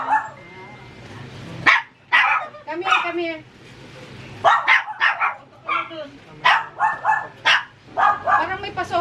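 A dog barks and yips repeatedly at night in a garden, sharp close barks in irregular bursts with some whimpering, while a person speaks briefly between them.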